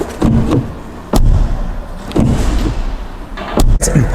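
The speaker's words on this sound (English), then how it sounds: "The sound of the door is pretty nice" A Volkswagen ID.3 facelift car door is closed several times, producing a series of close, solid thumps spaced about a second apart.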